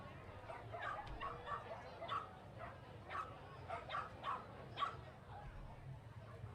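Dogs at an outdoor children's parade bark in a quick series of short, moderately distant yaps over a low rumble of street noise, with a steady crowd murmur behind.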